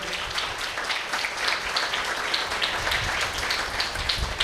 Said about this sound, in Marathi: तर त्यांच्यासाठी एकदा जोरदार टाळ्या होऊन देत